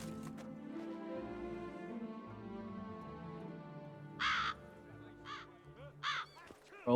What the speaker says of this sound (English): Crows around here too.